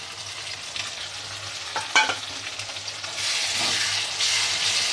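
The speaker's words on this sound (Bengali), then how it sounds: "পেঁয়াজটা ভাজা ভাজা হয়ে গেছে। তো এরপরে দিয়ে দেবো আদা রসুন কাজু বাদাম পেস্টটা" Onions fry in a pan with ginger, garlic and cashew paste, a close steady sizzle with brief stirring scrapes and the frying swelling louder toward the end.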